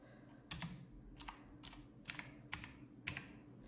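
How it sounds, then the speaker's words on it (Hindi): Keys are pressed one at a time on a fully mechanical backlit gaming keyboard, six distinct clicky strokes in an irregular rhythm, close and crisp against a quiet background. "कीबोर्ड फुल्ली मैकेनिकल फीलिंग है, बहुत ही अच्छा कीबोर्ड है"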